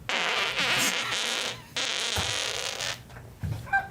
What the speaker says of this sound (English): You threw your back out from the fart machine.